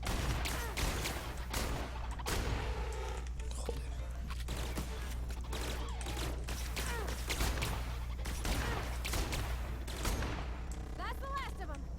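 Bursts of gunfire in The Outer Worlds video game crack repeatedly over a steady low background, with rapid volleys and scattered single shots throughout.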